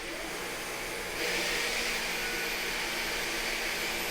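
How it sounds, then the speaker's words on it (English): A Dyson Gen 5 Detect cordless stick vacuum runs steadily with a broad, airy whine, stepping up to a louder, higher-pitched roar about a second in and holding there. "So here's the Gen 5 Detect on the different modes."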